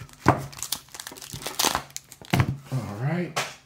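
Mail packaging is ripped open by hand, with crinkly plastic and paper tearing in quick, irregular rustles and snaps close by, while a voice talks over it.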